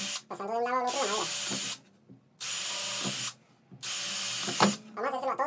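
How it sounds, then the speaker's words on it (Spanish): An electric drill with a small bit bores pilot holes through wood in three loud bursts of about a second each, separated by short pauses, with a voice talking between them. "con un taladro y una broca pequeña comenzamos a hacer los hoyos guía en todas las partes donde necesite el diseño"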